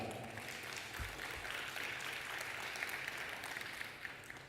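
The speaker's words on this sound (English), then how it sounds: "Please just give yourself a big round of applause as we begin now." A room of attendees at a provincial film gathering claps steadily and evenly, dense applause heard from the audience throughout, with no voices breaking through.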